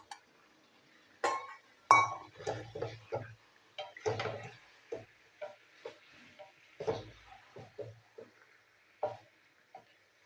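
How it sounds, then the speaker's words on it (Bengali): Raw, unfried potatoes go into a pot of chicken curry, producing scattered clinks and scrapes of a utensil against the pot with a faint sizzle underneath, irregular and fairly quiet. "বন্ধুরা এবার দিয়ে দেবো আলু। আলু আমি ভাজিনি, না ভেজেই দিলাম।"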